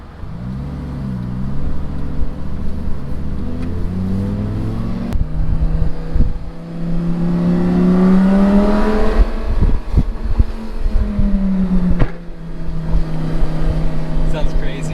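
A rebuilt Lamborghini engine revs up and settles several times, loud and close, with people talking over it.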